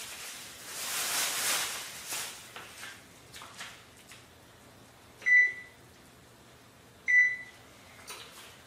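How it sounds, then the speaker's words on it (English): A kitchen oven's control panel sounds two short, clear electronic beeps a couple of seconds apart as it is set to preheat, after some soft handling noises and rustling nearby. "we are going to preheat our oven just for a second"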